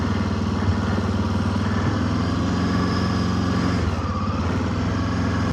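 A motorcycle is ridden through fresh snow in Minnesota, its engine running in a steady, close, throbbing chug with a rattly edge and little change in pitch.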